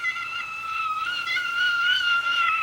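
A kettle of boiling liquid nitrogen gives a sustained high-pitched whistle, a steady tone with overtones that wavers slightly and holds loud and close throughout.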